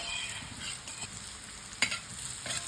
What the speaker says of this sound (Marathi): एकदम मंद गॅसवर आपण परतायचा, म्हणजे सर्व परतेपर्यंत पहिली करपली जाणार नाही आहे